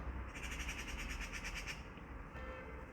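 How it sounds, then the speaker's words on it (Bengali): A bird calls in a quick, rapidly repeated string of squawky chirps for about a second and a half, faint and distant, then trails off. "ফাঁকির কিচিরমিচির ডাক শুনতে হইবা বাহিরে খুবই সুন্দর আওয়াজ দেয় পাখিগুলা"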